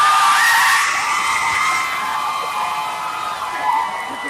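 A live audience at a comedy tour show cheers and whoops loudly for Ryan, a dense wash of shouts and applause that peaks at the start, eases slightly, then swells again near the end.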